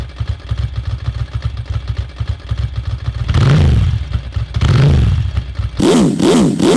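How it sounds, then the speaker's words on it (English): A Ducati Monster motorcycle's exhaust burbles with a lumpy, loping idle, then barks through several deep, booming revs that rise and fall, loud and close with no talk. "Its deep, booming exhaust note is a sound that would bring a smile to anyone's dial."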